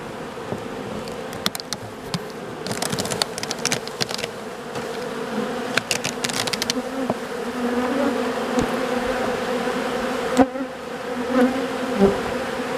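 Honeybees swarm and buzz steadily inside an opened hive during a midday inspection, a dense continuous hum with scattered sharper clicks and knocks of frames being handled.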